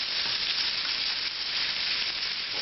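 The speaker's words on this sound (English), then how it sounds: "Now I'm going to add onion, garlic, and the butter. We're going to melt the butter in the pan." Butter, onion and garlic sizzle steadily in a hot pan alongside a ribeye steak, a dense continuous hiss with no talk.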